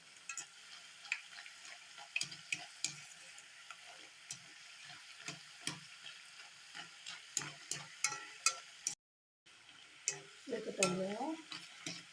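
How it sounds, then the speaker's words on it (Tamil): Wheat flour snacks deep-frying in hot oil crackle with a constant soft sizzle and scattered pops, a brief silent gap near the end, followed by a short burst of speech. "நல்லா கொஞ்சம் கிறிஸ்ப் ஆகிற அளவுக்கு நல்லா பொறிச்சு எடுத்துடலாம்"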